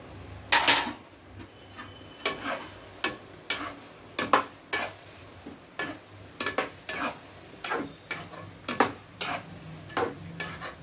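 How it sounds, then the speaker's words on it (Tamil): Spoon or spatula stirring cut vegetarian liver pieces into boiling masala in a pan, a series of close scraping, clattering strokes at an irregular rhythm over a low simmering bubble. "நம்ம போட்ட மசாலாலாம் நல்லா கொதி வந்துக்கிட்டு இருக்குது இப்போ நம்ம வந்து வெட்டி வச்சுருக்கிற ஈரலை சேர்த்துடலாம்"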